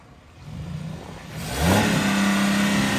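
A Dodge Nitro engine revs up from a low idle into a deeper, sustained growl, close by and steady for the last half.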